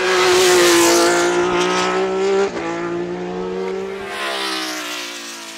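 A 1972 Ferrari 312PB race car engine roars at high revs, a steady loud harmonic drone that dips briefly and settles back, with no talking.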